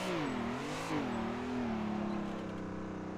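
A car engine revs and accelerates during a drift in the racing game Assetto Corsa, the pitch rising and dipping twice before settling into a sustained loud drone.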